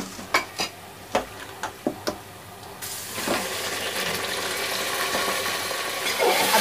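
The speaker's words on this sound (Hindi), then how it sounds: "अब इसे हम प्याज के साथ अच्छे से फ्राई करेंगे" Spoon or ladle clinks against a pot several times, then meat with onions starts frying for biryani, a steady sizzle that grows louder and fills the rest.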